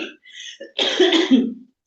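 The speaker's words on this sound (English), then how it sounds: "Having a good cough." A single person coughs close up, a short throaty burst after a few faint breaths, with no talking around it.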